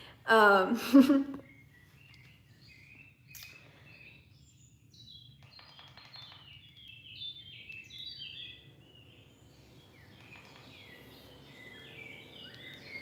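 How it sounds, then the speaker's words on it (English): Birds chirp and trill in the background, scattered high calls repeating through the quiet, with a brief burst of sound near the start. "let me know if you can hear the background. It's birds"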